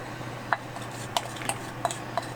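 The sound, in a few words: stirring currant juice and sugar in a pot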